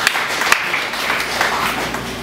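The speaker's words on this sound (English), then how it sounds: "Let's give the Lord a clap of praise." A church congregation gives a short burst of clapping in praise during a sermon, a dense, fairly even patter with a couple of sharper claps standing out.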